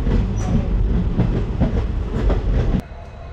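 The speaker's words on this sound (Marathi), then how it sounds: "पहिल्यांदा बसलो रेल्वे" A passenger train rolls along its rails, heard from inside a carriage: a loud, steady rumble with rhythmic clatter from the wheels, dropping off suddenly near the end.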